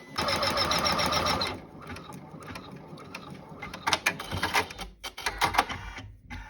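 An embroidery machine stitches the bottom of a hood for a fast dry hooded towel, a loud steady rapid stitching whir for about a second and a half, then softer mechanical clicks and ratcheting taps continue alone.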